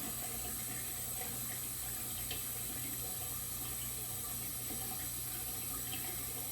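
Water runs steadily from a bathroom tap during a straight razor shave, a continuous hiss and splash that holds at an even level throughout with no voices.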